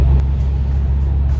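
A Hyundai Genesis Coupé engine rumbles steadily while driving, a loud, deep, continuous drone heard from inside the car with no other sounds over it.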